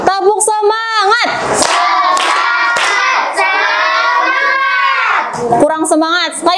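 A class of children doing a rhythmic spirit clap together, loud and close, with bursts of sharp hand claps in a chanting pattern and children's voices chanting along throughout.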